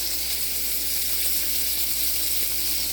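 Tomatoes and garlic sizzle in a hot pan for a one-pan chicken bowl, making a steady, loud, close hiss of frying that holds evenly throughout with no voices.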